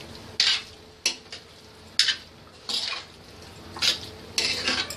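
Chopped coriander being stirred into cooked Punjabi chole, a spoon scraping and clinking against the pot in about six distinct strokes over a soft simmering sizzle.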